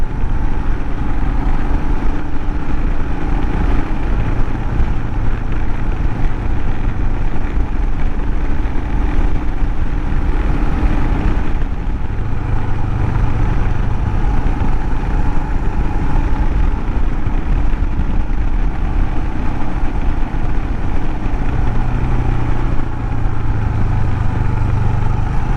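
A Royal Enfield Himalayan motorcycle sweeping through twisty corners, its engine droning steadily with loud, continuous wind rush and slight swells in pitch as it leans and accelerates, with no voices.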